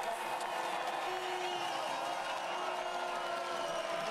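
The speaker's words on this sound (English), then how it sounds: "given a good reception by this very fair and generous crowd" A fair, generous crowd at a Paralympic cross-country skiing relay in Sochi, applauding and cheering a skier from China, a broad steady roar of clapping and voices heard from a distance with a commentator talking over it.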